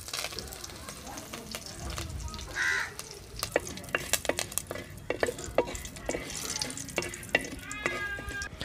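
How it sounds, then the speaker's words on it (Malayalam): Dried red chillies and curry leaves hit hot oil in a pan for a Kerala mussel curry, giving a steady close sizzle with scattered sharp crackles and pops throughout. "അപ്പം നമുക്ക് ഇതിലോട്ട് ഒരു 3 വറ്റൽമുളക് ഇട്ട് കൊടുക്കാം. കുറച്ച് കറിവേപ്പില ഇട്ട് കൊടുക്കാവേ."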